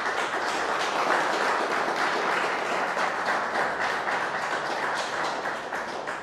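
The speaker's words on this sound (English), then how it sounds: "So can we get a round of applause for Car?" An audience at a Bitcoin startup event breaks into sustained applause, a dense, steady wash of many hands clapping that stays loud for the whole stretch before easing slightly at the end.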